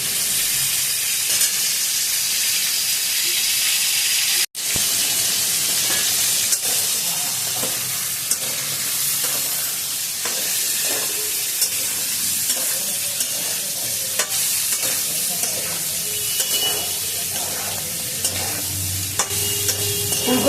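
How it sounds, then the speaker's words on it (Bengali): Cauliflower and potatoes frying in a pan, a loud, dense, unbroken sizzle with occasional stirring scrapes, heard up close and alone throughout. "চলুন আমি ভালো করে ফুলকপিটা ভেজে নিই"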